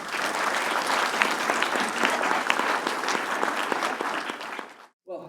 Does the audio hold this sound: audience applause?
yes